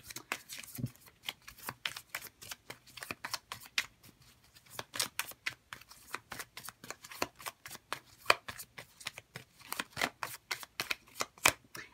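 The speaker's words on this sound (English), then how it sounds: "So let's see if we can get a playing card on this. I'm using Bob Ross playing cards" Bob Ross playing cards get shuffled in repeated quick bursts of flicking, riffling clatter, close and crisp, with short pauses between runs and no talking.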